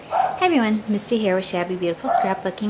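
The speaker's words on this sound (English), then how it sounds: "sorry my dogs are having a little come apart." Dogs yip and bark indoors under a woman's cheerful spoken greeting, the barks scattered between and over her words at moderate loudness.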